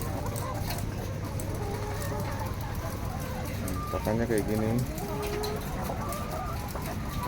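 Laying hens in a low-cost egg-layer coop cluck and squawk steadily at moderate distance, with a brief louder burst of calls midway, while a person talks over them.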